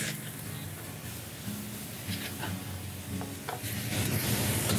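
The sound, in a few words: stir-frying kai lan with Chinese sausage in a wok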